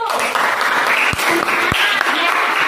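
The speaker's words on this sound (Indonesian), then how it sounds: "Tepuk tangan untuk Raju" A classroom of students applauds a classmate named Raju with loud, close clapping, a couple of sharp knocks standing out, and voices chattering underneath.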